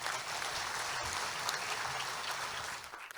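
A Tamil stage debate audience claps steadily to welcome a speaker onto the stage. The sustained applause is moderately loud and fills the room evenly for a few seconds, with no voices over it.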